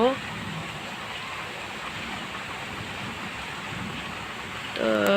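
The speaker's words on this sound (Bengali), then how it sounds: "প্রচুর বৃষ্টি হয়েছে একদম সব কিছু শীতল হয়ে গেছে" Heavy rain pours over the town of Feni, a steady, dense hiss of downpour that holds evenly throughout, with a voice breaking in briefly at the very end.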